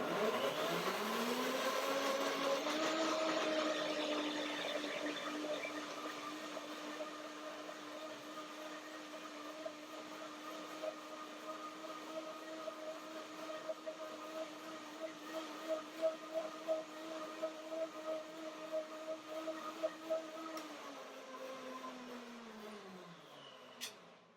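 A powerful blender winds up to a steady high whine, runs for about twenty seconds with some rattling, then spins down.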